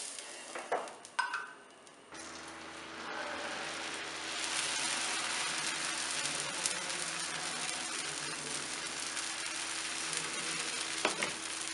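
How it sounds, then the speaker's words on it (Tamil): Fermented dosa batter hits a hot stone griddle (kal dosai) after a few brief kitchen clatters, then settles into a steady, close, loud hiss of sizzling frying that continues to the end. "இப்போ நம்ம தோசை விடலாம். இப்போ நல்லா கல் காஞ்சிருச்சு."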